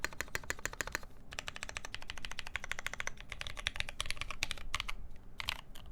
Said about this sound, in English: It's pretty standard MX black on aluminum sound.